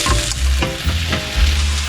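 Chicken pieces frying and sizzling in a hot pan with garlic, a dense crackling hiss with bursts of spatter as the food is stirred, close and loud with no voices.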